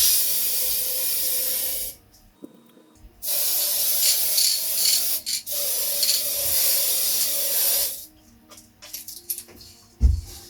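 Can of Rustoleum gold spray paint hissing and sputtering unevenly in loud bursts with short gaps, used on aluminium narrowboat window frames, rough and spluttery rather than a smooth steady spray.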